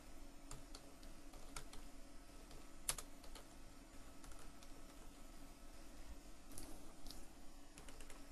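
Keys clicking on a computer keyboard as text is typed into a text box in Microsoft Word, quiet and irregular over a soft steady room hum, with one sharper tap near the middle.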